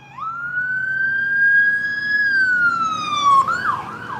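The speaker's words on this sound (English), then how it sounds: "It's gonna be loud, sorry, here it comes." A loud ambulance siren wails close by on a street, its rising and falling tone sweeping past and dropping in pitch as it goes, with traffic rumbling underneath.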